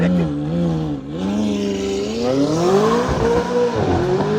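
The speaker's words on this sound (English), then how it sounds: "Here comes the Mustang." Ford Mustang speeding past at night, engine howling up through the gears with a rising and falling pitch as it roars by close and loud, tires faintly squealing.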